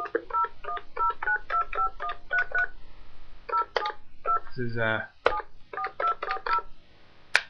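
Touch-tone telephone keypad dialing: a rapid series of short DTMF beeps in quick clusters, loud and close, with someone briefly speaking partway through.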